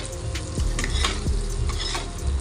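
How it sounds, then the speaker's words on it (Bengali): Soybean chunks frying in a pan with oil for a vegetarian dish, a loud continuous sizzle with intermittent stirring scrapes, close up and without speech. "সয়াবিনগুলো লাল লাল করে ভেজে নিয়েছি"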